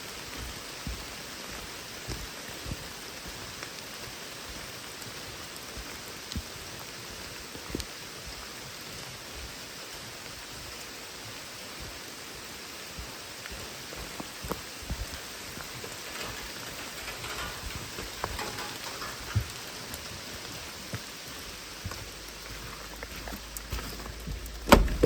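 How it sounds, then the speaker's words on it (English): Heavy rain pours steadily outdoors, a dense, even hiss with scattered drop impacts, alone and without voices, near a generator at a tunnel dig. "it doesn't seem like the rain's ever going to stop"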